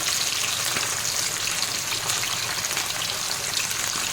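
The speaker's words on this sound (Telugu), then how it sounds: "ఆయిల్ వేడి అయిపోయింది బాగా చేప అయితే ఇందులో వేసేస్తున్నాము" Fish dropped into well-heated oil for a Kuwaiti mutabbaq fish dish, giving a loud, dense, steady sizzle and crackle held close throughout, with no voices.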